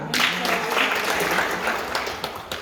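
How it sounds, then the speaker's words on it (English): Students in a government bilingual high school classroom clap for a classmate, a steady burst of applause from a small group close by, with a teacher's voice and chatter mixed in. "Very good. Clap for her."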